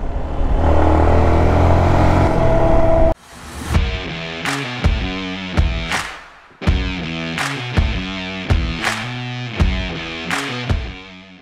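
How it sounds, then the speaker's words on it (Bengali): A Yamaha MT-15 motorcycle with an unusual noise revs loudly and steadily, then cuts to repeated short throttle blips that each rise and fall, with brief pauses between bursts. "তখন বাইকটা থেকে ডিফারেন্ট একটা শব্দ আসতেছে"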